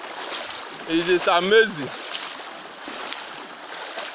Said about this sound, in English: Look at the high current. Current is so high.